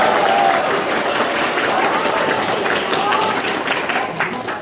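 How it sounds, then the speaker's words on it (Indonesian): A crowd of school students claps steadily and loudly throughout, a dense wash of applause with a voice faintly audible underneath, tapering slightly at the end. "Tepuk tangan untuk beliau."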